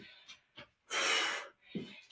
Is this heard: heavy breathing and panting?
yes